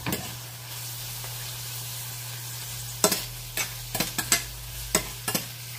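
Onion sizzles steadily in a hot pan as tomato goes in, a close continuous hiss broken by several sharp scraping and stirring clatters toward the end.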